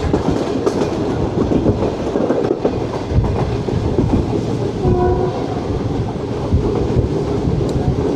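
Badar Express train at Sheikhupura Junction, with locomotive 6408, rumbling steadily close by, a continuous loud roll of wheels and carriages with a brief horn-like tone in the middle.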